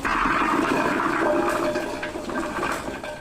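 Fresh turmeric roots are rinsed in water, making a continuous close-up rush of sloshing and splashing that holds steady, then eases slightly near the end.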